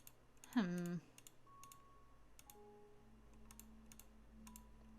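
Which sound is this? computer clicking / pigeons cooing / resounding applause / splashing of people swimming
computer clicking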